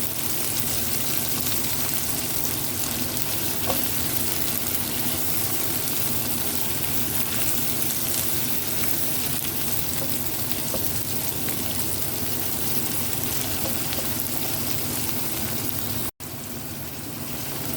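Chili being stirred into a frying pan of eggs with carrot, a steady crackling sizzle of hot oil running continuously and close up, with faint scraping under it and a brief break near the end.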